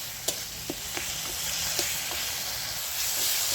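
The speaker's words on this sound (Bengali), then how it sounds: "টমেটোটা যতক্ষণ না গলে যাচ্ছে ততক্ষণ আমি মশলাটা কষিয়ে নেব।" Spices, chili powder and tomato fry together in a pan for a fish curry, making a steady, moderate sizzle and hiss broken by a few light clicks of stirring.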